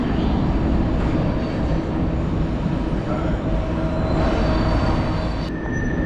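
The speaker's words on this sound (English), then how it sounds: "There's another train going through in the back." A train passing through in the background of a small town street in Harpers Ferry, West Virginia, a steady loud rumble with wheel squeal and a high metallic tone near the end, no talking.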